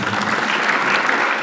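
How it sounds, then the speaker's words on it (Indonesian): Loud, dense applause from a large church congregation fills the whole moment, a continuous roar of many hands clapping. "Beri tepuk tangan."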